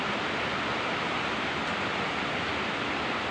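Heavy rain pours down in a steady, dense hiss that fills the whole moment without pause, loud and close, with no voices.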